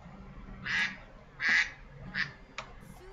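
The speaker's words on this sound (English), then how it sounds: "So if you heard a duck, that was the timer" A phone timer alarm set to a duck sound, giving three quick nasal quacks followed by a short chirp over a low background hum.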